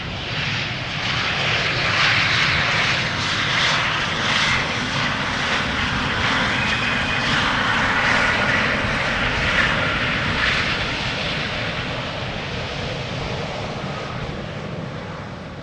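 An Embraer 190 jet arriving at Schiphol Airport, its engines roaring loud and steady throughout with a broad, sustained rush that fades slightly toward the end.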